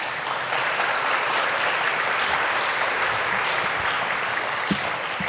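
Sustained audience applause at a Martin Luther King Jr. celebration, a steady dense clapping from a full crowd lasting several seconds with no talk over it.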